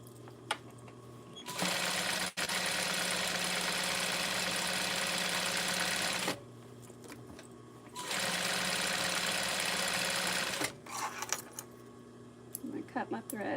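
A sewing machine stitches along the edge of a baby blanket in two long, steady whirring runs separated by a pause, close and loud, with a voice speaking briefly near the end.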